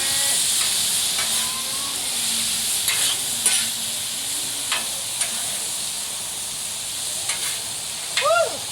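Garlic and onions being stirred on a Blackstone griddle while making paella, a continuous sizzle and hiss with repeated scraping strokes of a spatula on the flat steel, close and fairly loud.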